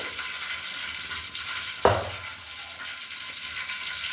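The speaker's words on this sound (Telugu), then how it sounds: "చింతపండు ఉడుకుతుంది కదా," Tamarind cooking in a pan with oil over a low flame, a steady close sizzle and bubble with one brief sharp pop partway through and no voices.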